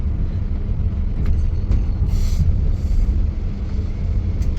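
The Ballia–Sealdah down train rolls past close by, a loud, heavy low rumble of wheels on rails that stays steady and unbroken, with faint brake hiss or hisses of air on top.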